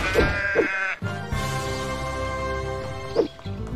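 Sheep in the video game Deeeer Simulator give several loud, close, wavering bleats in quick succession, with a brief crash between them.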